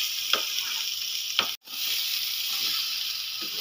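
Stuffed pointed gourd (potol) sizzles steadily in hot oil for a Bengali dorma, a close, continuous frying hiss broken by a few soft stirring clicks and one brief moment of near silence.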